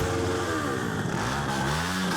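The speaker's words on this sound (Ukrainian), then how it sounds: "Мотоколона з понад сотні двоколісних вирушила до флагштоку" A column of over a hundred motorcycles rides off together at a motorcycle season opening in Chernivtsi, engines droning and revving loudly up close in a continuous dense roar without talk.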